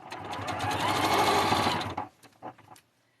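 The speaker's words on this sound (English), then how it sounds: "now we're just going to sew right along that line" A home sewing machine runs a straight seam in a short, loud burst of fast motorized stitching lasting about two seconds, followed by a few soft clicks as the fabric is adjusted.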